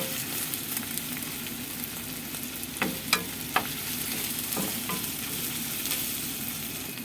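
Chopped green onion (negi) sautéing in a pan for a mixed vegetable stir-fry gives a steady, moderate sizzle, broken by a few sharp scraping clinks of stirring near the middle.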